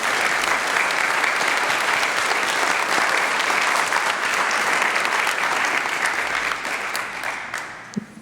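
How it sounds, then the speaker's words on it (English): A school auditorium audience at a high school National Honor Society induction ceremony claps steadily for Medal of Honor nominees, a dense, sustained ovation that fades near the end. "Let's give them a round of applause."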